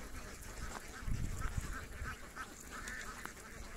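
Many ducks on a rural duck farm with ponds and ditches, a dense, steady chorus of quacking and chatter at moderate distance, continuous throughout with no talk.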